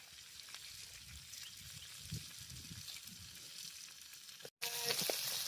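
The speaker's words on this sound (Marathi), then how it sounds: "हे पण फ्राय करायचे आपण तव्यामध्ये" Boiled eggs fry on a tawa griddle at a farmhouse party, a soft continuous sizzle with faint stirring and clinks, broken by a short cut before a louder, brighter frying hiss returns.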